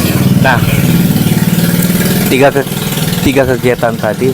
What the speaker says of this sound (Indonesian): mohon maaf ada motor keras banget ya